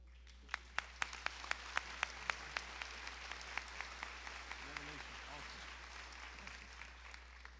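A commencement audience applauds a graduating student with distinct hand claps standing out sharply at first, then blending into softer, thinning applause under a constant low hum. A voice briefly murmurs partway through.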